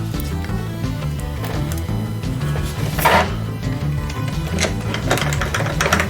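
A powered screwdriver drives six screws at an angle into a 1/4 scale Ford Mustang V8 engine model, a steady close whirring motor hum with a brief harsher grinding burst partway through.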